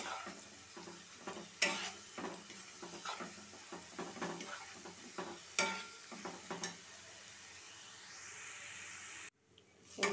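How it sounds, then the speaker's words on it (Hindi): Masala with coriander and mint paste sizzles in a pan for chicken hariyali tikka masala while a spoon stirs and scrapes against the metal, producing close, repeated clinks over a soft, steady frying hiss. "मसाला को अच्छा से हम एकदम फ्राई कर लेंगे"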